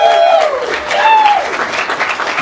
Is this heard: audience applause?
yes